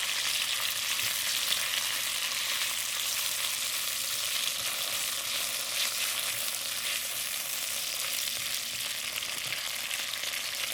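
Thin pork slices sizzle steadily in a pan as they brown for a pork and broccoli stir fry, a dense, even hiss with no talking.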